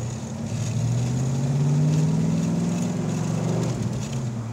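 A 1984 Ford Mustang GT350 engine pulls loud and close from inside the car, its drone rising as it accelerates, then dipping briefly as it shifts into second gear before climbing again.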